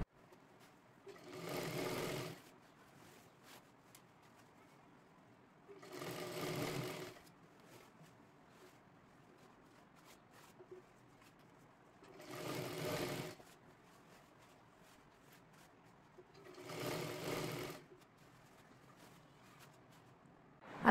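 A sewing machine stitches a lehenga waistband in four short, separate bursts of motor hum a few seconds apart, with quiet gaps between runs, near and fairly soft.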